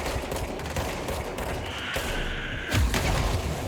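An exploding enemy blows up in the video game Control, a loud, dense burst over continuous rumbling combat noise, with a heavier boom near the end.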